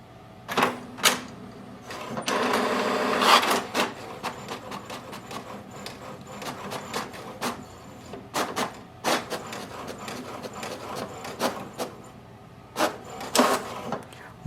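An HP DeskJet 4200 inkjet printer runs a level 3 printhead cleaning cycle on a clogged printhead, giving irregular mechanical clicks, clacks and short whirring bursts with quiet gaps, close by and with no voices.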